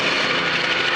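A helicopter in a movie scene gives off a loud, steady roar of engine and rotor noise that fills the short moment without pause or voices.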